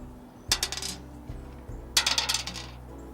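Dice rolled in the Roller Geezer dice game make two separate bursts of close, bright clattering and rattling, each settling after about half a second, with no talk.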